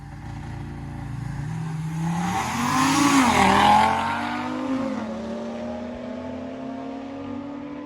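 A Corvette Z06 racing an Audi, engine noise swelling as the cars accelerate and pass close by around the middle, then settling into a steady, fading drone.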